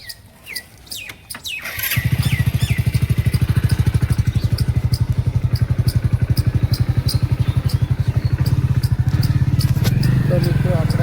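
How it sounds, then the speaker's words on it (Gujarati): A motorcycle engine catches after a couple of rough attempts and settles into a loud, steady, rapid thudding idle close by, with faint clatter over it and a few light knocks near the end. "તો મિત્રો આપણે હવે ફાઇનલી બાઇક ઉપરથી ચાલુ કરી દીધું"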